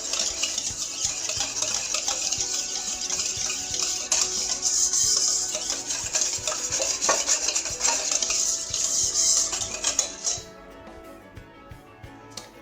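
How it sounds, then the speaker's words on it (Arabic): A utensil stirs a batter of salt and egg in a bowl, close scraping and clinking against the dish for about ten seconds before fading to near quiet. "كنحركو هاد المكونات."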